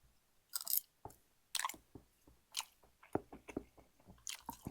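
Close, wet chewing of big scallops at a steak and lobster feast, with repeated squishy bites and crunchy mouth sounds in an irregular rhythm and no talk.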